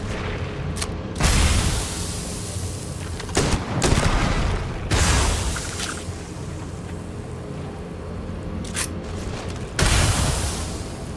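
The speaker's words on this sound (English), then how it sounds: "Are you shooting something at me?" Bursts of gunfire in the space-exploration video game Starfield, several loud broadband blasts at irregular intervals over a steady low rumble, with no talking.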